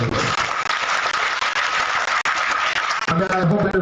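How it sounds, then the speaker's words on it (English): A lecture audience claps in a dense, steady burst of applause, fairly close and loud, with some talk mixed in toward the end. "Please, can we give them another round of applause?"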